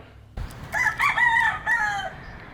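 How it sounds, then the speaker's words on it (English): A rooster crows once, loud and clear, after a brief quiet start, with faint ambient noise behind it. "I think you can tell by all the roosters that you can hear in the background"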